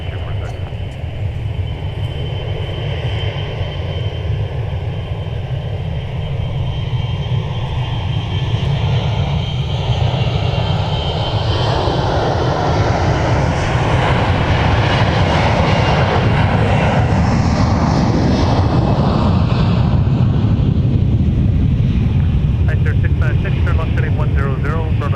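A Delta airliner takes off at MSP airport, a loud sustained jet engine roar that swells and sweeps in pitch as the plane passes, continuous over the whole stretch with talk in the background.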